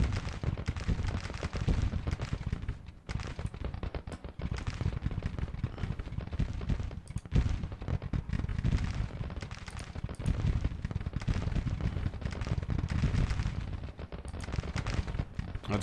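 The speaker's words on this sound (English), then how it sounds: "That's our Gatling guns right there." Gatling guns fire in a Civil War battle in Grand Tactician, a dense continuous rattle of shots over battlefield rumble lasting about sixteen seconds at a steady, moderately distant level.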